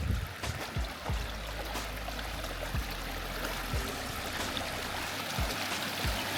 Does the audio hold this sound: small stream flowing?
yes